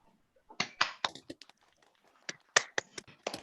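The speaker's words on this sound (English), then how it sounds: "I think to give a quick round of applause before we continue" A short, sparse round of applause during a voting session, with a handful of separate sharp claps scattered over a few seconds against near silence.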